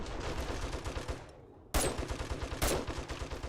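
Rapid automatic gunfire from a weapon in the survival game 7 Days to Die, a dense rattling burst that breaks off briefly and then resumes with two sharp louder onsets, with no talking over it.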